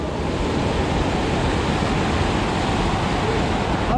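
Waterfall near a dam in the Western Ghats of Maharashtra, heard as a dense, unbroken roar of rushing water that stays loud and steady from start to finish.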